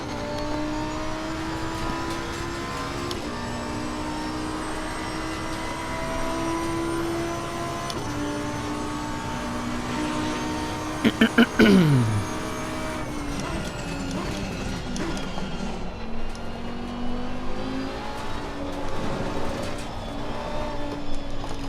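Race car with a V10 engine on a tire-warming out lap in Assetto Corsa Competizione, a steady engine drone with shifting pitch as it accelerates and slows, with a voice faintly heard at times.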